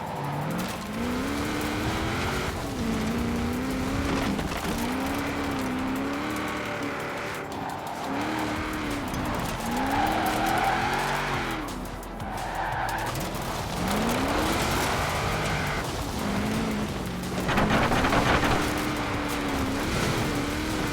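Engine of a car accelerating hard in the racing video game Forza Horizon 4, a steady loud roar with rising and falling revs through gear changes, plus tire skids, continuous and alone without talk.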